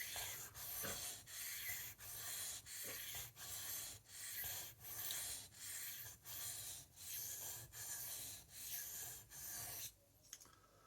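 A knife stroked steadily across a whetstone with light pressure, a dry rasping rub repeated about a dozen times in an even rhythm, close and clear, with no talking.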